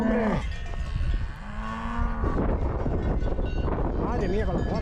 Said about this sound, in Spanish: Ahí vienen más vacas